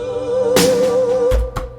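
Two layered snare drum samples in FL Studio sound together, a sustained pitched tone under a sharp noisy crack, then two quick punchy hits near the end, close and alone with no voice.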